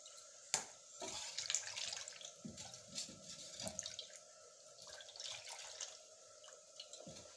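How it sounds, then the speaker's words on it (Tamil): Tap water runs and splashes into a vessel being rinsed in a home kitchen, then pours into a mutton coconut-milk curry; faint, irregular splashing and dripping with a few sharper knocks, no talk. "இந்த பாத்திரத்தை அப்படியே கழுவி நம்ம அந்த மட்டனில் ஊற்றிடும்"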